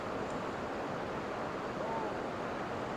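A steady, broadband roar of rushing water from a waterfall at an outdoor site with old ruins, continuous and loud with no breaks or distinct events.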